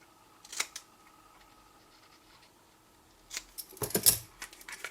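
Scissors trim a paper ring box made from card stock, giving a quiet snip early on, then a short cluster of close, crisp snips and paper rustles near the end, with no talking.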